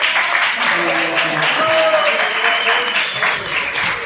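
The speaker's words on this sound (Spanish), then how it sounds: "Aplausos para Luciano" A physiology class breaks into applause for a student, a steady patter of many hands clapping nearby for about four seconds, with voices speaking over it.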